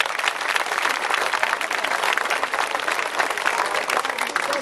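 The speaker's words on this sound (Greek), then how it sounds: "να τους χειροκροτήσουμε" An audience at a Greek cultural evening applauds musicians in a thick, even burst of clapping that fills the room without pause, with a few voices faint beneath it.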